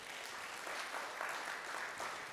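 A church congregation gives a sermon speaker a round of applause, a soft, continuous patter of many hands that is fairly distant and even throughout.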